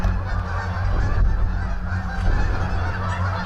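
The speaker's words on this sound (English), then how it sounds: "And these geese are just freaking out." Geese honk excitedly in the woods at night, a steady chorus of overlapping calls heard at moderate distance over a low background rumble.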